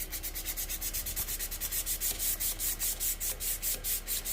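Rhythmic back-and-forth sanding of a wooden calligraphy dip pen, a steady scratchy rasp repeating quickly and evenly, close and moderately quiet.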